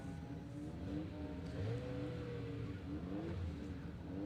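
Rally cars at a Welsh forest stage, a Subaru, a Mazda MX-5 and a Mitsubishi Evo, heard fairly distant as engines rise and fall in several rising revving sweeps while they pass one after another.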